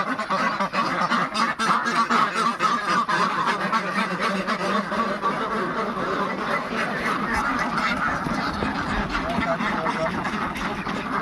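Many ducks quacking and honking together in a busy, continuous chorus at a duck hatchery, close by and loud throughout.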